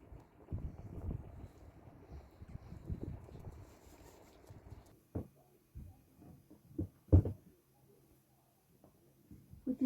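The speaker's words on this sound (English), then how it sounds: "It's like windy outside." Wind gusting outdoors during a walk, a low rumbling buffet on the microphone that comes and goes in uneven surges, with scattered thumps and bumps later on and no talk.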